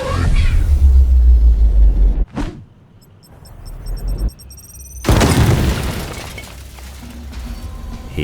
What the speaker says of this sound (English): we will throw the grenade into the mix